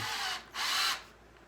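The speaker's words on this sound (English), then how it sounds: "I'm going to drill a small little start hole, just easy, right here with my hand in position." A power drill bores a small start hole in wood on a holiday craft project. Two short, close, high whirring bursts are heard, with a brief dip between them, and no talking.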